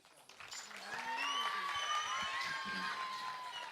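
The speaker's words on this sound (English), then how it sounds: "Let's give a great sound of final applause." Closing applause from a crowd at a documentary film festival event, building in and holding steady as a sustained wash of clapping, with a sustained musical tone and a voice heard over it.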